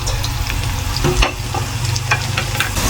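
Onion, garlic and ginger sauté in a pan for pork binagoongan, a loud, continuous close-up sizzle with a few sharp pops and spatter bursts.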